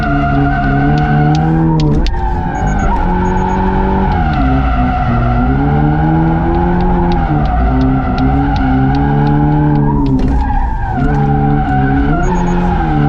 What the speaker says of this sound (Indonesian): Gue akan ngedrift satu lap kayak tadi.